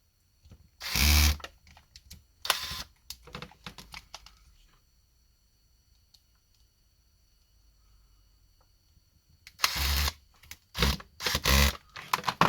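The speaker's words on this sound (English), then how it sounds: "let's screw the screw to the frame" A small screw driven into the frame of a Nokia 5233 phone produces short bursts of close, buzzy whirring and clicking near the start and again near the end, with a quiet stretch in between.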